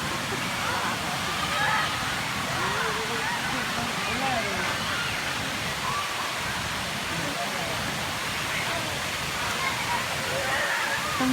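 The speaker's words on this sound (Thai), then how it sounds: "น้ำตกชั้นที่หนึ่ง" A constant rushing roar of the first tier of Erawan Waterfall in Kanchanaburi fills the scene, with faint voices murmuring underneath.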